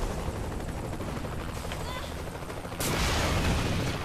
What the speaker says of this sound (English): the explosions are crazy.